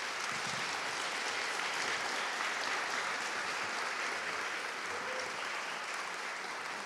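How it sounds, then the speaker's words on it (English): Sustained applause from an audience standing for a state representative at an iftar gathering in a statehouse, dense steady clapping filling the room at an even level, with faint voices under it. "Let's stand up and let's clap it up for Representative Muhammad."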